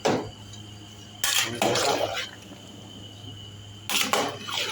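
Metal clanks and scrapes of a large cooking pot being handled nearby while making chicken kaldereta, a few sharp knocks separated by quieter stretches with a low background hum.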